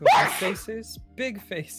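A single sharp sneeze bursts out at the start, and people talk afterwards in an indoor setting.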